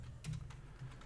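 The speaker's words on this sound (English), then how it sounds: "I'm struggling with typing tonight" Rapid keystrokes on a computer keyboard, a handful of light, irregular clicks close to the microphone over a steady low hum, with no voices.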